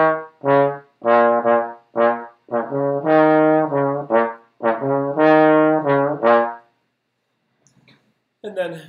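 A trombone plays a jazz melody in short, punchy phrases of separated notes, close and clear, then falls silent before a brief final note.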